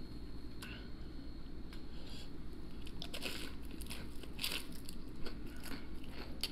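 Costco shrimp tempura is bitten and chewed close up, crisp crunches and crackles over a constant low background hum, with no talking.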